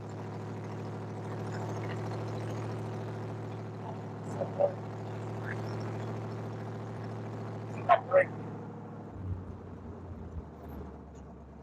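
A 1967 Pontiac Firebird 400 runs on a test drive, its low engine drone steady throughout, with a few short clicks and knocks and a shift in tone near the end.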